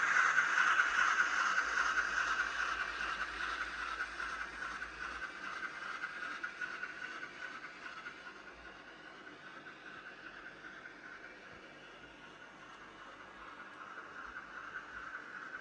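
A model steam locomotive hauls three carriages up a hill on a track, a soft hissing chuff with a higher whine that is louder at first and then fades slightly as it moves away, no voices.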